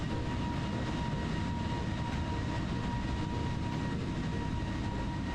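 An Airbus A320 in Microsoft Flight Simulator, an Air Arabia flight from Barcelona to Marrakech, gives off a loud, steady engine roar with a constant whine and no talking, unbroken from start to finish.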